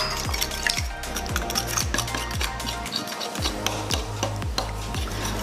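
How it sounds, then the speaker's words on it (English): Whisk or spoon stirring eggs into chocolate lava cake batter in a bowl, rhythmic close scraping and knocking strokes repeating steadily, no talking. "Give it a mix."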